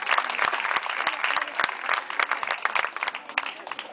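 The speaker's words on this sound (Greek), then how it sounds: "Γιατί σε αυτή αξίζουν τα χειροκροτήματα" Clapping from a seated audience at a school choir performance (horodia 2013), dense and steady throughout with sharp individual claps standing out, fairly close and sustained.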